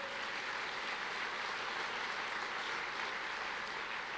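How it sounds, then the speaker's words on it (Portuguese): A church congregation claps steadily throughout, a dense, uniform wash of applause at moderate loudness with no voices standing out. "pode aplaudir ao Senhor"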